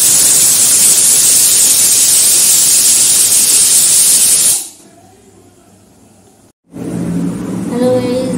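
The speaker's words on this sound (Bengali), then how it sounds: "এবার জলটা গরম হয়ে গেছে, এর মধ্যে গরম জলটা দিয়ে ঢাকনা দিয়ে ঢেকে দেবো।" Hot water is poured into a pot of cooking meat, a loud rushing steam hiss lasting several seconds, then abruptly cut off, leaving a brief quiet and a lower bubbling rumble.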